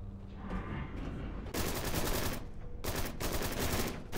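Sustained gunfire in the video game Dark, loud and dense, with bursts that swell into heavier volleys partway through and continue to the end, no talking over it.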